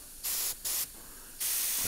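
An airbrush spraying paint gives three bright, hissing bursts of different lengths separated by short pauses, close and loud, with the last burst running on to the end.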